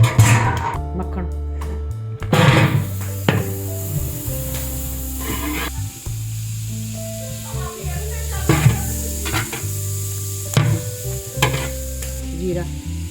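Butter sizzles in a pan for Mumbai street-style pav bhaji, a loud, crackling fry broken up by repeated stirring and scraping strokes.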